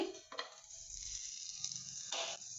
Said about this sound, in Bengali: এবার আমি তেলটা দিতে থাকছি